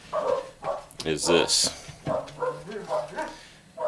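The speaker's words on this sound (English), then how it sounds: "oh, there's the dogs" Dogs bark nearby in a few sharp bursts and yips, mixed in among a man's speech.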